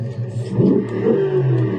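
A car engine in the BeamNG.drive video game revs up sharply, rising to a loud mid-pitched roar that holds briefly and then eases, heard close and alone.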